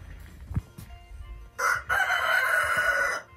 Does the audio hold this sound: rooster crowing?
yes